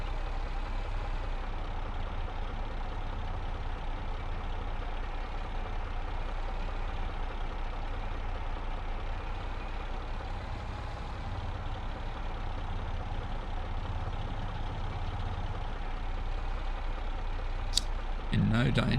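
A tractor engine drones steadily while reversing slowly in a Farming Simulator game on a British farm map, a continuous low rumble with a brief click near the end.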